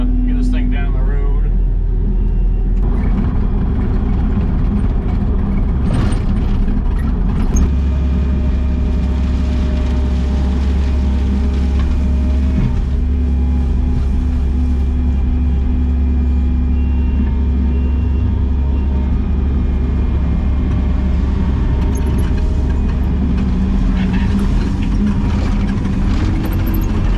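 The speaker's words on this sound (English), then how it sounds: "got the motor started up here. Let's get this thing down the road." A Ram 3500 dually pickup drives down the road hauling gravel, its engine a steady, loud diesel-like drone with low rumble throughout, while someone talks over it.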